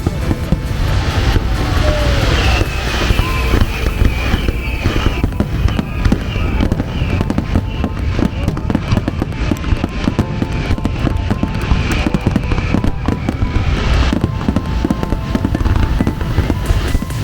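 Fireworks bursting at the Toba Minato festival, a continuous dense barrage of loud booms and crackles with whistling streaks, crowd noise and occasional voices underneath.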